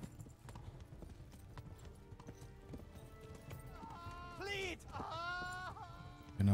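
Rapid clip-clop of horse hooves trotting, with bleating animals and a whinny rising toward the end, over a busy soundscape in the video game Kingdom Come: Deliverance.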